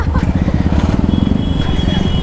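A motorcycle engine runs at a steady, close throb, a rhythmic low pulsing that stays even and loud through the short stretch.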